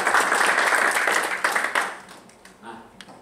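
A church congregation bursts into loud applause that holds steady for well over a second, then thins into scattered claps and fades as the room settles.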